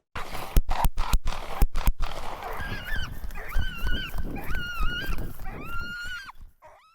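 Aggressive dogs cry out in strained, high yelps and squealing barks after a burst of sharp, loud bangs at the start, the distressed calls rising and falling for several seconds before cutting off.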